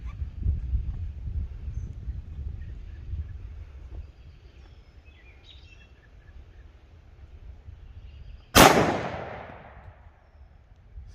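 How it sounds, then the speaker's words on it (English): A single sharp 10mm handgun shot fired with a DRT Terminal Shock 145-grain round cracks out loudly near the end, its echo fading, after a stretch of low outdoor rumble with no talking. "So let me take another shot and see what happens."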